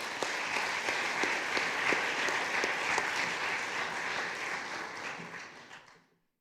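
Sustained audience applause for Lieutenant Jeff Diedrich at a sheriff's department community gathering, dense steady clapping that carries evenly for several seconds before fading out.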